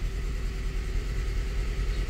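A faltering car engine runs at idle, a steady low rumble with a slightly uneven pulse and no talking over it.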